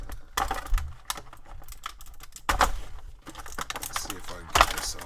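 Cutting the small tie-downs that hold an action figure's cape, close snipping and plastic crinkling and rustling in irregular bursts.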